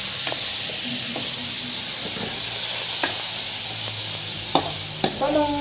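Tomatoes stirred in a frying pan with shrimp paste, a continuous hiss of sizzling under occasional scrapes and a couple of sharp utensil knocks near the end, no voices.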